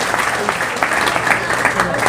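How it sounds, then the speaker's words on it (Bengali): Loud, dense applause from a large audience at a religious gathering, continuous clapping filling the whole stretch without pause. "জোরসে করতালি হোক।"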